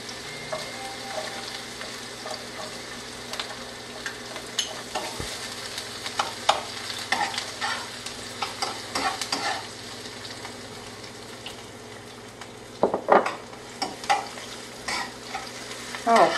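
Garlic sautés in a hot pan with a steady close sizzle, broken by repeated scraping and clattering strokes as it is stirred, with no voices.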